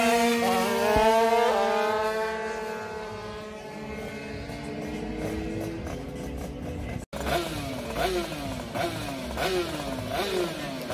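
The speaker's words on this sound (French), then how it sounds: "Ici au premier plan Fox et son 90 MXS" A 90 MXS dirt motorcycle screams past close in the foreground, its engine pitch climbing and dropping through rapid gear changes, with other bikes buzzing in the background.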